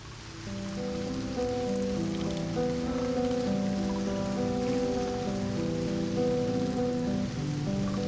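Rain in the video game Reverse 1999 falls as a continuous, even patter under sustained musical tones from the game's soundtrack, steady throughout.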